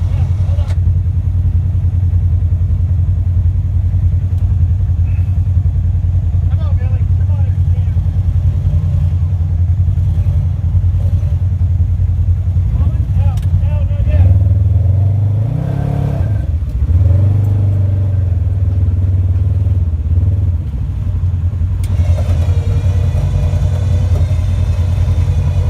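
An off-road vehicle revs its engine hard while its wheels spin trying to pull free, a loud steady low drone with rising and falling surges near the middle; voices talk over it.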